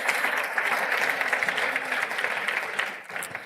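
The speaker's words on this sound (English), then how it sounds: "let's give a huge round of applause just one more time." A live audience at a Standard Bank EmpowHER women's event in Durban breaks into sustained applause, a dense, steady patter of many hands that holds evenly before thinning out near the end.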